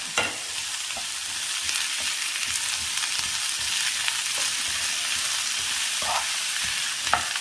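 Chopped green chillies sizzle in a pan with potato and ivy gourd, a steady broadband frying hiss with scattered stirring scrapes and light clicks, close and continuous with no talking.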